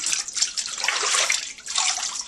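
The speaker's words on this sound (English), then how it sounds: "So let's wash your hair." Water streams steadily from a tap or jug while a baby's hair is washed in a bath, a close, continuous splashing rush with brief dips in flow and no talk.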